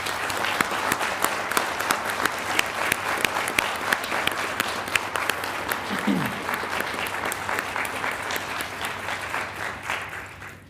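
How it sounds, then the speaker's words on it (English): Audience at a city council meeting gives a sustained round of applause, dense steady clapping from many hands filling the room for about ten seconds before tapering at the end, with a brief voice murmuring midway. "Let's give them all one more round of applause."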